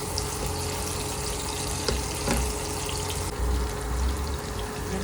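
Garlic sizzling steadily in a hot pan, a continuous crackling fry with faint watery hiss, fairly close and alone without talk, from a home-cooked ampalaya with nuggets dish.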